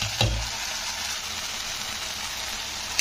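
Tangy sour greens sautéing in a pan, a steady close sizzle with a brief knock near the start.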